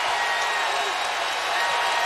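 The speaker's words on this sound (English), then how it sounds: "Well, the crowd is up now." Crowd in a basketball arena at an NCAA Tournament second-round game, Kentucky vs Cincinnati, as Kentucky rallies; a steady, loud wash of cheering and applause fills the whole stretch with no pause.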